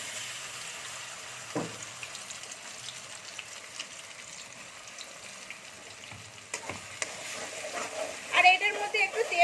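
Ground spice paste dropped into hot oil for a Bengali matar paneer curry sizzles and crackles steadily at close range, with a few sharp spits and louder frying toward the end.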